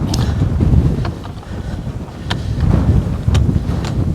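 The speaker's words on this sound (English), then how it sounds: "The wind's blowing pretty hard." Strong wind buffets a Rode Wireless Go clip-on microphone outdoors on a thru-hike, a loud, continuous low rumble with gusty swells and occasional sharp crackles, with no voices.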